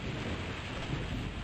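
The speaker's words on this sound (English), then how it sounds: "Storm." A steady thunderstorm in a video game: continuous rain hiss and low rumbling roar fill the whole stretch at an even level, with no voices.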